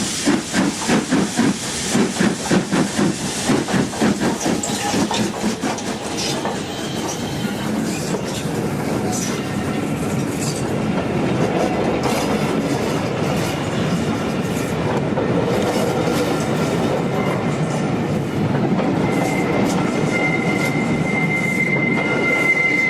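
An LNER steam locomotive working a train at Grosmont station on a service from Whitby: loud rhythmic chuffing and hissing steam with rolling wheels and rail noise, the beat fading into a steady rumble and a faint squeal.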